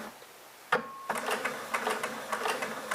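A sewing machine stitching the end of a pillowcase seam, backstitching a few stitches and then going forward. It starts after a sharp click and runs as a quick, close, rhythmic mechanical whir.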